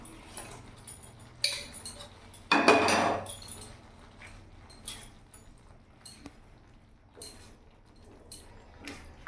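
Fried paneer pieces tipped into a pan of masala for restaurant-style paneer butter masala, a short loud clatter of metal and sizzle near the start followed by scattered light clinks of a spoon stirring.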